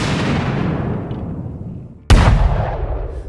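A loud blast rings out and decays, then a second sharp explosion strikes suddenly and booms on, heavy and close, with no voices, as armoured infantry fighting vehicles come under fire in combat in Ukraine.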